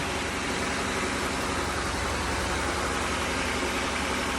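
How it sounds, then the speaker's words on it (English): A 2005 Ford Taurus with a 3.0L 24-valve DOHC engine idles just after starting, giving a steady, close, broadband hum and low rumble with no change across the whole stretch. "Okay, so I turned the car on."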